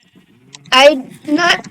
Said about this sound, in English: Don't mind all the cows and sheep that you can hear up there.